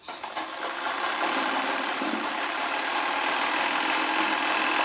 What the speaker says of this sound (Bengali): এখানে ডবল সেলাই দিয়ে আমি নিচে কোমরের অবধি সেলাই করে নিচ্ছি